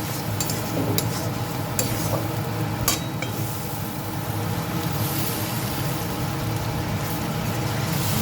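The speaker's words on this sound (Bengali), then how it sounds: "মশলাটা আমি ভালো করে কষিয়ে নেব।" Spice paste with tomato paste and salt being fried and stirred in a pan for an eggplant-paste fish curry: a soft, continuous sizzle with a few sharp spoon scrapes and clinks early on.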